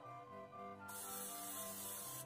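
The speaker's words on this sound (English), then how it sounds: "a little more spraying," Cooking spray hisses onto a pancake pan in one steady, close burst lasting over a second, over a faint background hum.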